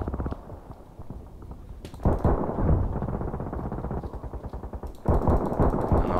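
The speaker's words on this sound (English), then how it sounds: "A grenade." Grenade blasts in a first-person shooter video game, two loud booming bursts a few seconds apart over rattling gunfire and background battle noise.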